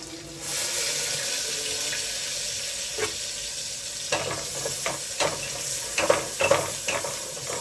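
Spices sizzle and crackle in hot oil after a sudden start, with scattered stirring clinks and pops growing busier toward the end.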